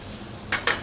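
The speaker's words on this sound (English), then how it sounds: "my chicken's getting nice and hot and it's sizzling in some of the fat that's coming out of the smoked bacon" Chicken sizzles in fat rendered from smoked bacon in a pan, a steady close hiss with two brief louder crackling bursts near the end.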